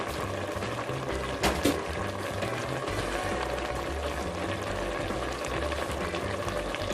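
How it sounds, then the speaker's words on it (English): Butter ghee going into a hot pan for a BIR base gravy, a steady bubbling, watery rush with a brief clunk early on, continuous and close, with no speech. "I'm going to add 1, 2 very big teaspoons of the butter ghee"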